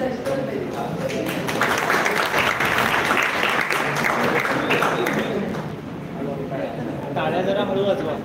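Audience applause for a school principal at a Women's Day function: dense, loud, sustained clapping from a large crowd filling the whole stretch, with a speaking voice heard over it.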